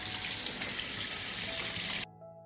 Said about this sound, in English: I will wash the peaches first because I only use clean and healthy fruit for canning.